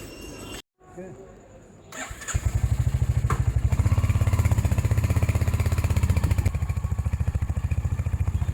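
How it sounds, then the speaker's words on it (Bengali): Royal Enfield motorcycle revving up and riding off, a loud rhythmic thumping engine close by after a brief quiet start. "বাইক নিয়ে বেরিয়ে পড়লাম।"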